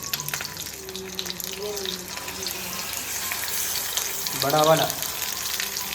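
Tilapia fish frying in a pan with curry leaves gives a steady, close sizzle throughout, while people talk over it and a louder hiss flares near the end.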